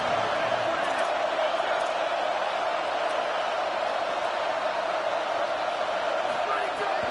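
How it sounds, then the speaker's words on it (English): Football stadium crowd roaring steadily through a third-down defensive stand, a dense continuous wash of cheering and noise from the stands with no letup across the whole stretch. "Big third down as the crowd gets behind this defense."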